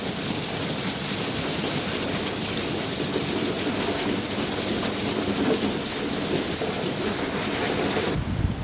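Steady, dense rain pours down continuously, a loud hissing wash with a faint low rumble underneath, cutting off abruptly at the end.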